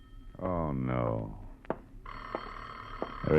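A telephone bell rings twice as an old-time radio drama effect, following a man's spoken line and a short sigh, the rings sharp and close.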